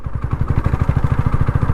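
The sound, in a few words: motorcycle engine juddering at very low speed in fourth gear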